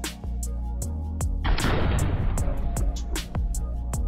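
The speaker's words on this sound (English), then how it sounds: "You can see the gunfire here." Rapid bursts of gunfire crack over a steady mechanical hum, with a louder, denser stretch of shots in the middle.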